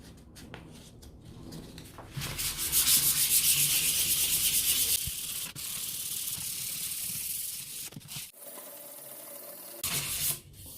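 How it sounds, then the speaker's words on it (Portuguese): Final hand sanding of a VW Beetle (Fusca) engine part with 400-grit sandpaper before painting: a close, steady abrasive scrubbing that swells louder midway, with a brief pause near the end before resuming. "Agora lixamento final com uma lixa 400."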